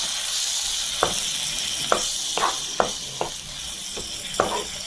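Onion curry in a pan, Kerala style, being stirred after tamarind water goes in: a steady sizzling hiss runs throughout, broken by about eight sharp spoon scrapes and knocks at uneven intervals, close and clear with no talking.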